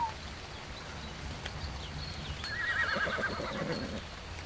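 A horse in the video game Ark Survival Ascended lets out a clear, fairly close neigh, a wavering whinny lasting over a second, following a few soft hoof clops and ambient game sounds.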